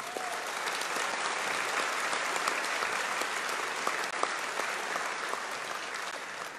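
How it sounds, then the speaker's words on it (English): An audience at a Toyota-sponsored festival claps for its volunteers, a broad, steady wash of applause that holds evenly throughout. "So a big round of applause for all those volunteers."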